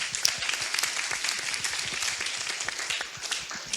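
An audience round of applause at an apprenticeship session, a continuous patter of many hands clapping evenly at moderate loudness for a few seconds.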